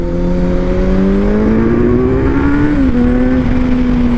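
A 2021 Kawasaki Z900 motorcycle accelerates hard, its engine note climbing steadily in pitch with a brief dip near the end as it shifts, loud and close, no talking, over steady wind and road rush.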